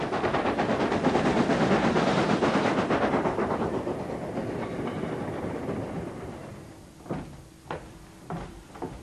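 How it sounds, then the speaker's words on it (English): A steam train running on rails, loud rushing chuffing that fades over several seconds into a few distinct clanks and rail clicks. "The steam train is something very much alive."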